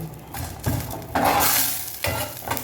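Masala for a Chettinad beef gravy frying in a pan, with a steady close sizzle broken by repeated stirring scrapes and swells of hissing, no voices.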